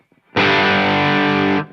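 A loud, heavily distorted electric guitar chord rings out sustained for over a second, thick and saturated, then cuts off.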